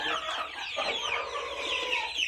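A crowd of week-old chicks mixed with newly hatched ones cheeps and chirps continuously in a pen, a dense layer of high, overlapping peeps with no pauses.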